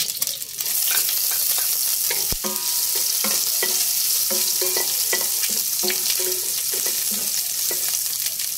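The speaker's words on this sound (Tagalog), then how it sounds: "Ilalagay ko na ang bawang." Garlic frying in a hot pan for chicken adobo, a steady close sizzle broken by repeated clinks and scrapes of a stirring utensil, with no talking.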